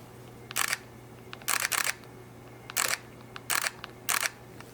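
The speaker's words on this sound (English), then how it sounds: "That's the beautiful shutter sound of the X-T2." A Fujifilm X-T2 mirrorless camera fires its shutter about five times, crisp close clicks spaced irregularly, some as quick doubles, over a low steady hum.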